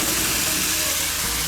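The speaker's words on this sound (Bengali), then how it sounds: "এখন এর মধ্যে দিয়ে দেবো ভেজে রাখা আলু।" Fried potatoes tumbling into a pan of pea and spice masala, the hot oil hissing in a steady, close, continuous sizzle with no talk.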